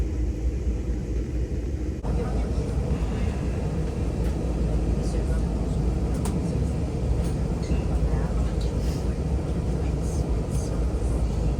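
Interior of a VIA Rail Siemens trainset standing at Dorval station, with a steady low rumble of onboard machinery and ventilation throughout, sharp clicks and faint clatter on top, and a change in the background after the first two seconds.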